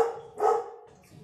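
A dog in a home kitchen gives a single short bark, fairly close and moderately loud, with quiet room sound around it.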